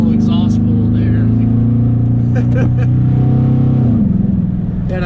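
GMC Canyon pickup with a 5.3 V8 makes a strong, steady exhaust drone under a pull, then drops in pitch as it eases off, loud and close, with brief voices over it.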